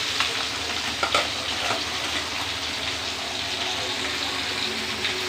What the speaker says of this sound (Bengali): এই মাছ ভাজতে গেলে খুব কষ্ট